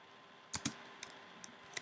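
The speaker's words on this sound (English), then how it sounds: "now I get the bullet symbol and I can start typing" Keyboard typing, a few quiet key clicks in an irregular rhythm against a soft background hiss.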